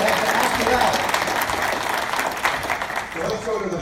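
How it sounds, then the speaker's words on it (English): Applause from an audience at a real estate ethics event, steady broadband clapping sustained throughout, moderately loud with some voices mixed in. "Let's give them a round of applause"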